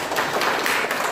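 A short burst of clapping from a church congregation, close and fairly loud, with no talk over it.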